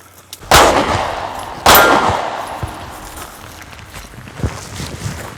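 Two loud pistol shots ring out close by at an outdoor range with steel targets, each followed by a metallic clang and a fading echo, then quieter shuffling and footsteps.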